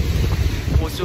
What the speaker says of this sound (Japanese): 風は非常に強いんですけれども、 大西洋の荒波が